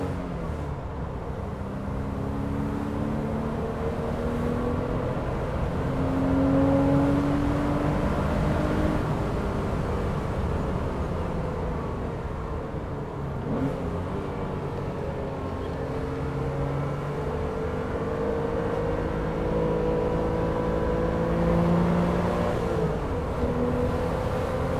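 Porsche Boxster S 550 Spyder with a six-speed manual cruising a wet backroad at 7AM, engine drone steady and close with gear-linked pitch shifts and road and tyre noise throughout, no voices.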